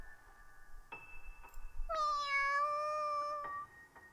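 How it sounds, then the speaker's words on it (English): A cat meowing in the video game YOU and ME and HER: one drawn-out, close, clear meow in the middle of the clip over quiet ambient tones, with a few faint clicks around it. "Eru meows into her ear."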